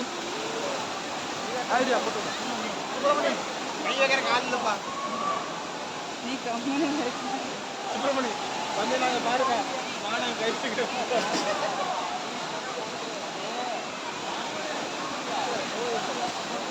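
A waterfall and stream at a crowded spot visited during the Diwali holiday. The water makes a steady broadband rush throughout, with a murmur of many people's voices and chatter mixed in.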